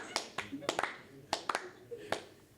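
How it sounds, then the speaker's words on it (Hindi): A few scattered hand claps from a small studio audience during a comedy interview, sparse and uneven sharp slaps rather than full applause. "अब ताली सुनिए."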